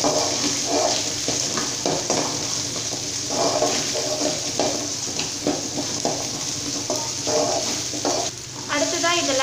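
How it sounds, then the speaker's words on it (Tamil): Small shallots, cut in half, sauté in oil in a pan for tomato-onion sambar, giving a steady loud sizzle broken by repeated scraping stirs of a spoon against the pan. "இப்போ வெங்காயம் சேர்த்துட்டு கொஞ்சம் வதக்கிக்கலாம்"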